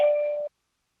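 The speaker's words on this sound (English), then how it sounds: "sorry about that, my doorbell." A single clear electronic doorbell chime rings once in a quiet room, holding a bright tone for about half a second before cutting off into silence.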